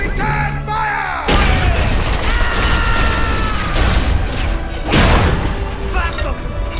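Battle sounds from a Medal of Honor: European Assault cutscene: booming explosions and bursts of gunfire pound over shouted voices, with a heavy crash partway through.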